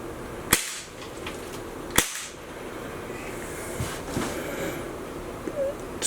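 Two sharp pops from an Atomic Armoury green gas 1911 airsoft pistol crack out about a second and a half apart, each a brief loud snap over steady outdoor background noise with no talking.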